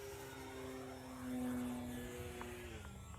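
Dynam PT-17 RC biplane flying overhead on its maiden flights, a steady distant propeller drone with a tone that swells and slowly shifts pitch as it passes, fairly faint against outdoor background.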